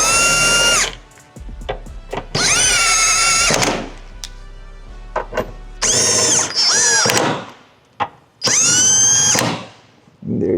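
Power tool snugging down transmission mount bolts during a VR30 AWD transmission swap: several bursts of close, loud whirring with high ratcheting tones, separated by short pauses and clunks.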